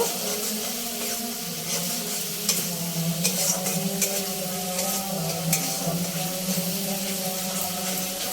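Ginger garlic paste fries in oil in a pan, a continuous close hiss and bubbling with faint stirring scrapes and a low hum beneath, unbroken for several seconds.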